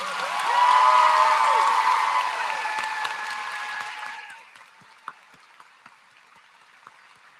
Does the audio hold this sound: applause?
yes